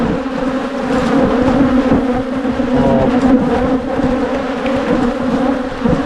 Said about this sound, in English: I just want to check that cluster of bees there